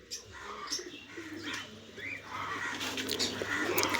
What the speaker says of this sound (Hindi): ये यहाँ पे सबसे बड़ा कबूतर है रंट